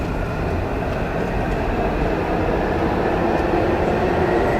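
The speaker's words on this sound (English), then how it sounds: "Last chance to board the Blue Line train." A Blue Line metro train rolls loudly and close by, a dense, continuous rumble of wheels and motors with a faint electric hum and no voices.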